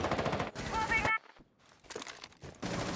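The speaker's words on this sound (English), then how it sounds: "A lot of bullets getting traded." Rapid automatic gunfire traded in a tactical shooter video game, sharp bursts cutting in and out around a brief lull, loud and dense, with game sounds filling the gaps.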